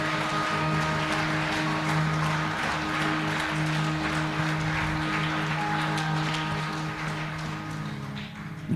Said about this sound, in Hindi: ऊपर ताली बजाएंगे